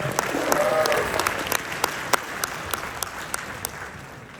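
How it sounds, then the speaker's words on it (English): Audience applause rises at a Vegas conference event, a dense wash of many hands clapping with sharper individual claps standing out, a voice briefly audible early on, then the clapping thins and tapers toward the end. "Give a big round of applause to them."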